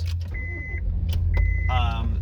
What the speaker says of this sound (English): Let me start my car here.